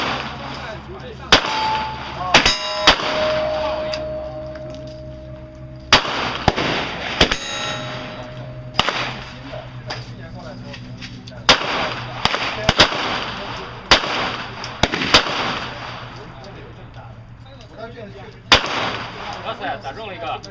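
Gunfire at an indoor or outdoor shooting range, a scattered series of sharp, loud single shots with uneven gaps, ringing against a steady background hum, with no talking.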